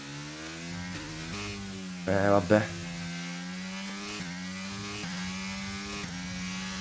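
Simulated Formula 1 race car engine at Imola, a steady buzzing whine with shifting harmonics, brief revving surges near the middle, running continuously under a single short spoken word.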